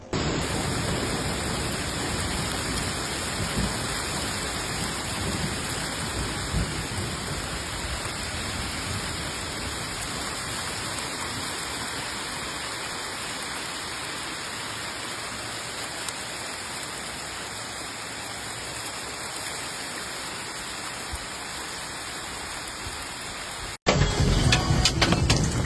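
Heavy rain from a supercell thunderstorm system over Michigan and Tennessee pours down in a dense, steady hiss that stays even and loud throughout, with a brief louder burst at the very end.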